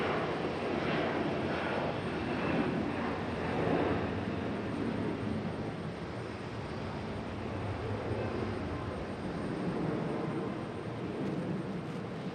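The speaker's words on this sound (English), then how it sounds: "Got a departure. United E175." A United E175 jet departing Raleigh-Durham International Airport produces a steady, broad engine roar that swells slightly early on and holds at a fairly even level, with no one speaking.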